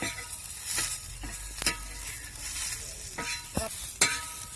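Onion and green chili frying in oil in a pan for a spiced moth bean curry, a steady close sizzle broken by several sharp scraping stirs and clinks.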